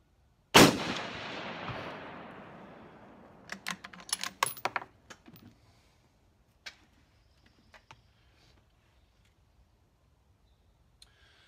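One sharp, loud gunshot at a shooting range with chronographs set up, its report decaying over a couple of seconds, followed by scattered small clicks and taps from nearby handling.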